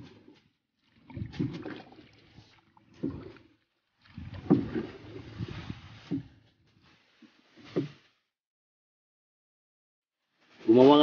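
Intermittent splashes and sloshes of a small boat being paddled on calm water, coming in irregular strokes with quiet gaps between, ending in a louder rush.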